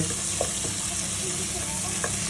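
Rice being stirred in a hot pan with garam masala, turmeric and salt, a constant sizzle with occasional soft scraping taps, close and steady.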